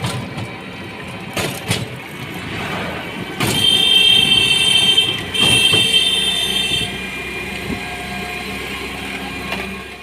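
A passenger train at a railway station rumbles steadily nearby, with a loud surge and high, squealing metallic tones midway before settling back to a lower rumble and scattered clanks.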